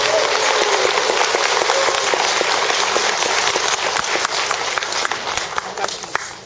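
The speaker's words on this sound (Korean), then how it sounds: "박수를 친다는 건 굉장히 아름다운 행위죠" Audience applause fills a concert talk show hall hosted by Buddhist monks, dense and steady clapping from a large crowd that holds loud for several seconds, then thins with a few scattered claps near the end.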